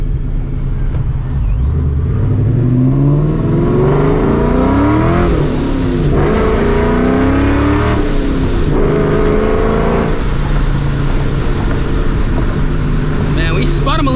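A supercharged 2V Mustang engine roars loud and close, its pitch sweeping up and down through repeated revs and gear changes under a constant throaty drone.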